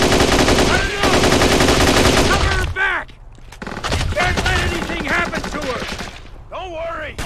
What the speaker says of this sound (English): We gotta shoot him!